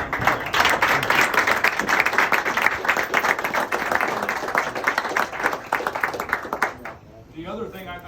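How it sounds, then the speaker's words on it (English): Audience applause for the fathers at a retirement event: sustained, close, crisp clapping from a crowd that fades out near the end, followed by a brief voice. "Give them a round of applause."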